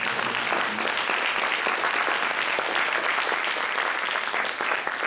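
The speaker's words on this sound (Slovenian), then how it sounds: "En lep aplavz." Steady audience applause fills the whole stretch, dense and continuous clapping from a theatre crowd at a contemporary dance solo and duet festival, loud and unbroken without voices.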